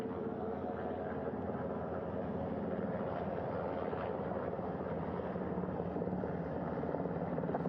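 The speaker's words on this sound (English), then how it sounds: "The first helicopter coming in." A helicopter hovers close over a ship's flight deck, its steady, heavy rotor and turbine roar loud and continuous throughout, with no voices.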